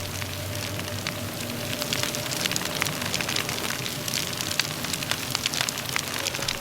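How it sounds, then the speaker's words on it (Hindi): Heavy rain pours and a fire burns in the courtyard fire pit of a haunted house horror video game, a steady dense hiss scattered with sharp crackles and pops, close and even throughout, with no talking. "और इतनी तेज बारिश होने के बाद भी आग नहीं बुझ रही।"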